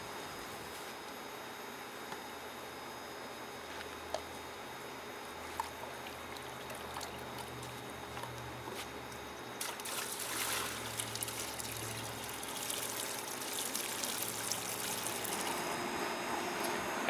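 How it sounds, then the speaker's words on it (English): Diatomaceous earth slurry pours and trickles steadily into a pool filter's return strainer, quiet at first and then swelling into a louder, hissing rush of water over the last several seconds. "You dump in that diatomaceous earth into that bucket, mix it, and then pour it into your return strainer."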